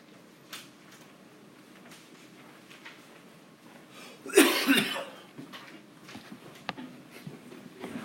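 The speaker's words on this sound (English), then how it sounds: "I don't know why I got a cough" A single cough bursts out sharply at close range in an otherwise quiet room, a brief harsh fit lasting under a second, with faint rustles before and after and no talking.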